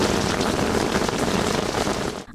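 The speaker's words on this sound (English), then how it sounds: "All we can do is to watch the rains drain into our rooms." Heavy rain pours in a dense, loud, unbroken roar during flooding in a flood-prone residential area, briefly dipping at the very end.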